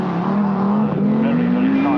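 A 1981 Lombard RAC Rally car drives at a steady pitch, its engine drone slowly climbing and loud throughout, while a commentator talks over it.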